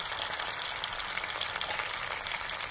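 Koi fish fries lightly in oil with a dense, even, close-up sizzle that holds at a steady level throughout.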